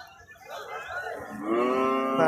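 A Gir cow moos loudly and close by at a cattle market, a long rising call that swells toward the end over a low murmur of outdoor background noise.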